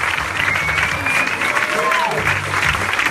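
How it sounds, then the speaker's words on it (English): Stand-up comedy club audience in San Diego applauding a comedian's introduction, a steady dense wash of clapping throughout with a few faint voices calling out over it. "So please clap and get wild for the one and only Mr. Ryan Buds."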